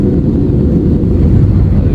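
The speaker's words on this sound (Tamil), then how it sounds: "ஃப்ளைட்டு கிளம்பிருச்சு" Steady low roar of an Air India jet airplane in flight just after takeoff from Madurai, loud and constant with a deep rumble and faint wind buffeting throughout.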